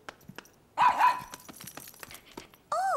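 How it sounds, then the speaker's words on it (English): A cartoon dog in a children's animated show gives a couple of loud, close barks, then falls quiet before another short yelp-like bark near the end. "Come here, puppy."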